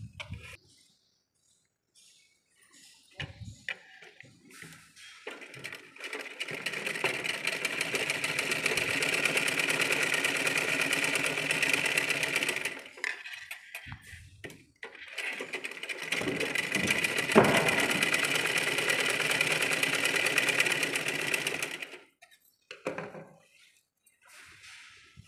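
A sewing machine stitches a folded fabric edge in two long, steady runs of whirring needle motor, close and fairly loud, starting after a quiet moment and stopping briefly between passes, with no voices over it.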